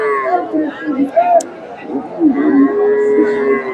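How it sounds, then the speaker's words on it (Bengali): Sahiwal cattle moo repeatedly at a busy cattle market, with long, loud lowing calls close by over a background of crowd chatter and people talking. "দেশ শাহিওল জাতের গাভী শাহিওল বকনা বাচ্চা নব্বই হাজার"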